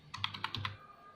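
Several quick keystrokes on a computer keyboard, about six close, light clicks in a short burst while a label is entered on a thread tensile-testing prototype setup, with no talk.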